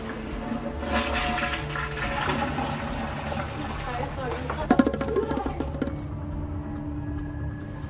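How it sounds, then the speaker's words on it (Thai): A toilet flushes with a rushing gurgle of water, then the tank refills with a steady hiss while people talk over it. "กดชักโครกด้วย"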